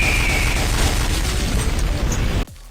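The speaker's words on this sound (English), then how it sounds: "I bet you thought I was gonna put an explosion over them." A loud explosion sound effect: a dense, roaring blast of noise sustains for over two seconds, then cuts off abruptly into near quiet.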